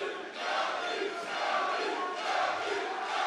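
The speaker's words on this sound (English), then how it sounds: "Partisan crowd here cheering for their hero." Partisan crowd at an MMA fight roars and cheers continuously for the home fighter, a loud sustained wash of voices with swelling surges and no clear speech.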